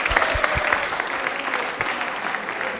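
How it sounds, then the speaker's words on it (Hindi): A studio audience on a televised quiz show applauding, steady close clapping from many hands that continues throughout. "तालियां एक बार जोरदार हो जाए मेघा के लिए।"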